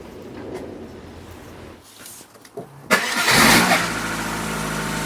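A Rover K-series engine with a starting fault is cranked, then catches and settles into a steady idle, loud and close after a few quiet clicks and fiddling sounds.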